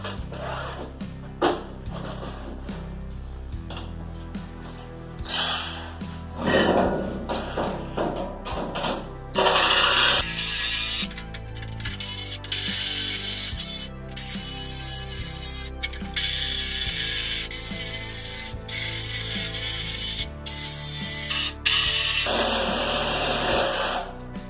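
A saber saw buzzes and rattles in stop-start bursts, then runs loud and steady for a long stretch with short pauses while cutting a circle for a brake drum forge.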